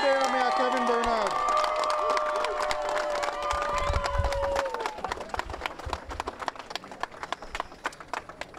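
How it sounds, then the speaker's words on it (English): A crowd at a political rally in Orange Walk East, Belize applauds and cheers over loud voices and music, then gives way to scattered clapping that thins out toward the end. "A round of applause, please, for the PUP and the Bearer Mayor Kevin Bern"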